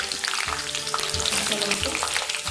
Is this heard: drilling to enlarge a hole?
no